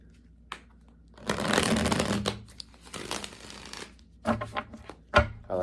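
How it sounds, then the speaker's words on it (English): Tarot cards shuffled by hand in a quiet room, a few quick riffling bursts of crisp card flutter separated by soft taps and pauses, close and fairly faint. "I like to get a quick shuffle in first."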